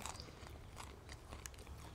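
Close, steady chewing and crunching of a small fried bird eaten whole with biryani, bones included, with soft bites and crackles repeating over two seconds and no talking.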